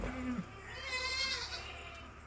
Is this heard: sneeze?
no